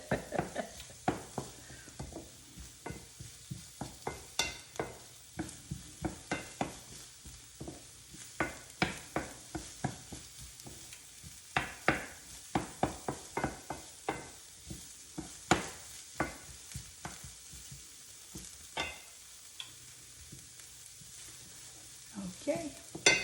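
Onions half-sweating in butter in a pan, with a spoon stirring and scraping in a steady run of sharp clicks over a low, soft sizzle; the sound is close and fairly quiet, with no talking.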